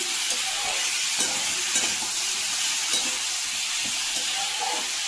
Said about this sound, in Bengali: এটা একটু কষা কষা হোক